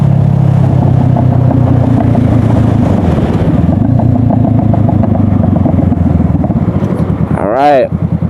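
A Honda CBR500R motorcycle engine runs loud and close, a steady throbbing rumble under wind noise, ending in a brief rising-and-falling rev near the end while a rider talks over it.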